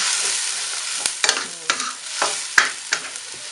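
Mushrooms and carrots sizzling in a hot wok while being stirred, with sharp metallic scrapes and clanks of a utensil every second or so.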